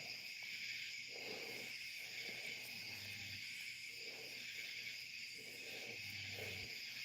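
Crickets chirp steadily outside an open window at night, a faint, continuous insect trill in repeated pulses with a ceiling fan running indoors and no talking.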